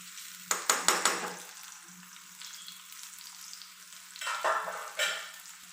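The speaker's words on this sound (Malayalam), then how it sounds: "നമുക്കിതിലേക്ക് വെളിച്ചെണ്ണ ഒഴിച്ചു കൊടുക്കുക ഒരു മൂന്ന് ചെറിയ ഉള്ളി നമ്മൾ അരിഞ്ഞതാണ് ചെറുതായിട്ട് അതിട്ട് കൊടുക്കുക" Finely chopped shallots drop into hot coconut oil in a pan for fish curry. A few sharp close scrapes come first, then a steady soft sizzle with another stir near the end.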